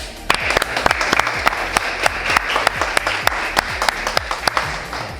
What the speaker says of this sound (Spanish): vamos a brindarle un fuerte aplauso, chicos